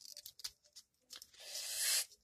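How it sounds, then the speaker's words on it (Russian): A small collectible packet is crinkled and then torn open with a long, bright ripping sound near the end, preceded by light plastic rustling, close and clear with no talking. "Сейчас откроем этот пакетик."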